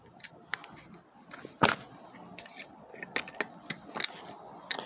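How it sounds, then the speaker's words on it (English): A utility knife cuts back stiff plastic on a windshield-mounted hands-free phone holder, producing scattered short snips and scrapes, one sharper crackle near the middle, close and fairly quiet. "So I had to cut back the plastic. I just used a utility knife."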